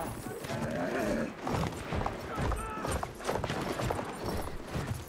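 In the Battlefield 1 video game, a horse's hooves clop rapidly in a gallop amid battle noise, with a brief whinny, while a person talks over the action.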